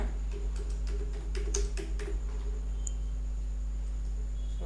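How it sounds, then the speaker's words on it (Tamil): Someone types a phone number on a computer keyboard, giving a quick run of light, close key clicks over a steady low electrical hum, with no talking. "ஸோ உங்களோட நம்பரை வந்து அங்கே டைப் பண்ணிக்கோங்க"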